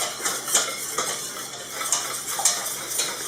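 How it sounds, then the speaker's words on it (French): Hot chocolate mixture being whisked vigorously in a pot, with a steady run of close metallic clinks and scrapes of the whisk against the sides, repeating in quick rhythmic strokes. "Il faut bien fouetter énergiquement jusqu'à ce que le tout soit bien mélangé"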